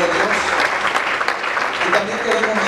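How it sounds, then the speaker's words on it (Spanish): A church congregation in Apopka, Florida, applauds in a loud, steady round of clapping filling the room, with a voice speaking faintly underneath. "La iglesia le dio un aplauso al Señor por ello."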